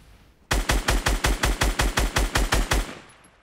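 Machine-gun fire in Fortnite Battle Royale, a single burst of about a dozen loud, evenly spaced shots lasting a little over two seconds, then a short fading tail.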